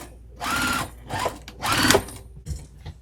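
A sewing machine back stitches along a bag seam in short bursts, two longer whirring runs and a brief final one, close and moderately loud with pauses between.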